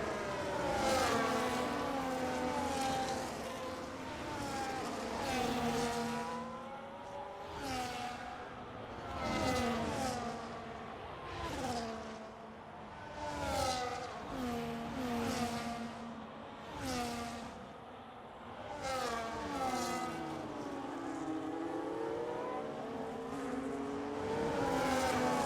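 Race cars in a sim racing game at the Saudi Arabia round, engines whining and revving up and down through gear shifts, several cars close together in a steady continuous pack.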